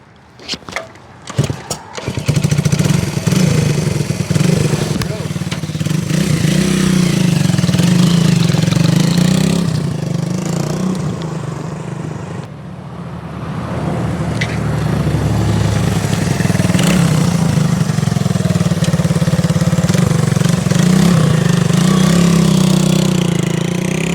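A 1974 Honda CB125S motorcycle engine roars steadily at high revs in fifth gear on a drive-by, loud and close, easing briefly before building again and holding a strong, continuous drone.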